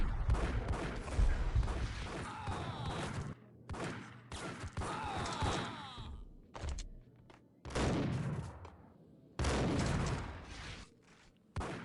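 Gunfire in the video game Max Payne: repeated loud bursts of shots in several separate clusters, with sharp impacts and brief gaps between them, no talk.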